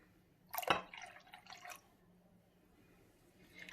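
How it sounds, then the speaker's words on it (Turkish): Squeezed lemon juice poured into a red beet salad, giving a short close splash and drip around the first second, a few smaller trickles, then quiet until a brief louder splash at the end. "Bir limonumu sıktım. Şimdi içine ilave ediyorum."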